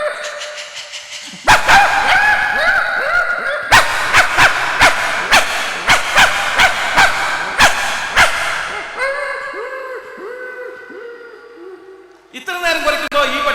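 A voice imitates a dog's changed bark after a long stretch of barking, with a run of rhythmic, yelping barks and whimpers, loud and close, then a short pause before a final burst.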